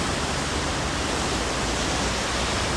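Floodwater from the remnants of Tropical Storm Fred rages through Gatlinburg, carrying debris in a loud, steady, unbroken roar of rushing water with no voices.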